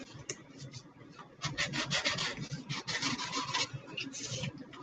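A blade cutting pink fondant for baby shower cupcake toppers gives close, soft scraping and rubbing strokes in quick uneven bursts, fairly quiet, with no talking.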